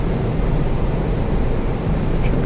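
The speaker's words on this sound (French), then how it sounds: "un autre pour voir l'effet des reverses sur les moteurs" A British Airways airliner's engines roar with thrust reversers deployed while landing at Marseille, a loud, steady broadband rumble with no pauses.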